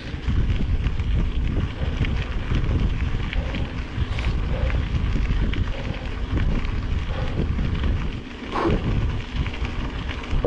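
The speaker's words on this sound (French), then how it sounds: "je lutte un peu contre le vent là." Steady, heavy wind buffeting the microphone while riding a gravel bike, with a constant low roar and gusty rumble, no voices.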